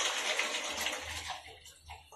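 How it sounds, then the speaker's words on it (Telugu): Water is poured into a pan holding tuna pieces for a Nellore-style tuna fish curry: a steady, splashy rush for about a second, then it thins to scattered trickles and drips. "ముందుగా వాటర్ పోసేద్దామండి"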